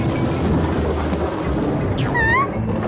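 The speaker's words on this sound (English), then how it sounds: "It's a stormy night." A low, rolling rumble of cartoon thunder on a stormy night, with rain and wind noise filling the background throughout and a brief whistling tone near the end.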